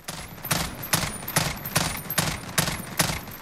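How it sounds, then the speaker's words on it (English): A FAMAS firing rapid bursts in Call of Duty Modern Warfare: six or seven sharp, loud volleys spaced roughly half a second apart, each a tight cluster of shots, with no voices over them. "we're able to get this burst off pretty fast"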